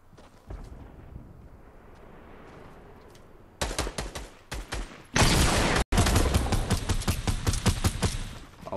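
Bursts of video game gunfire come after a quieter stretch, then erupt into loud, dense volleys of rapid shots that continue to the end with one brief gap.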